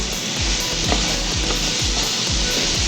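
Chopped onion and tomato sautéing in hot oil in a pan for a soya chunk perattu, with a steady loud sizzle and rhythmic scraping stirs of a spoon every half second.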